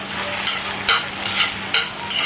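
Rice frying in a pan is stirred, with a spoon scraping through the sizzling grains in several short, close, repeated strokes over a constant crackle.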